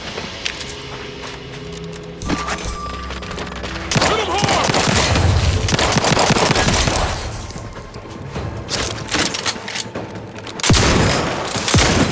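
Pistol shots in The Outer Worlds 2 come as repeated gunfire bursts with booming impacts over dense game music and effects. The shots are loud, near and spread across the stretch, and there are no clear pauses between volleys.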